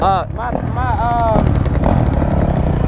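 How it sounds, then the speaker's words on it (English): A pit bike engine running rough and bogging from a wrongly sized carburetor jet, a loud uneven buzzing rumble with wavering pitch, heard alongside people talking nearby. "Oh, that pit bike sounds a little rough right there."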